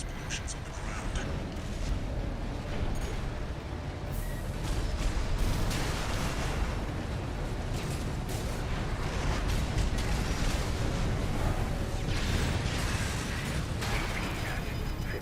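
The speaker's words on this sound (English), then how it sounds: "Use your mobility in the air to get clear of explosions on the ground." Explosions erupt across the ground during an Armored Core VI mech battle, a sustained loud barrage of overlapping booms, bursts and machinery noise that swells slightly midway and stays dense to the end.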